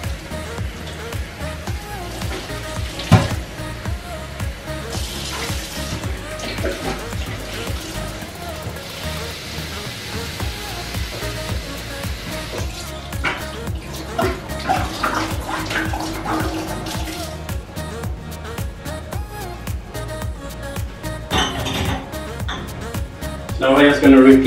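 Bottles for home-brewed cider washed with running water, a steady close splashing and gushing that continues throughout, with someone talking over it.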